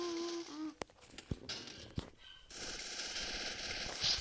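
Video game gunfire, with a few sharp single shots early on and then sustained rapid automatic fire rattling steadily through the second half, loud and close, with no talking.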